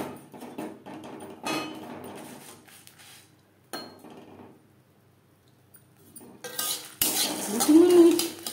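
Spices fry in a hot kadai over a low flame while a metal spatula scrapes and clinks against the pan in intermittent bursts, ending with a louder sizzle; no one talks.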